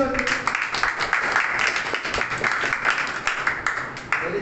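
A crowd clapping steadily for several seconds at a church meeting, a dense continuous patter of applause.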